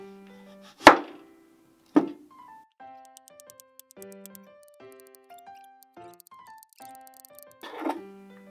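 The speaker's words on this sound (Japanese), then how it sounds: "にんにくみじん切り" A knife minces garlic on a cutting board while preparing paella, giving a few sharp chops set apart against soft background music.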